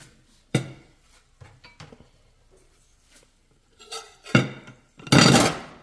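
Onions tossed back onto a hot cooking surface beside burgers, giving a few sharp scraping, sizzling bursts, with the loudest, longest rush of sizzle at the end.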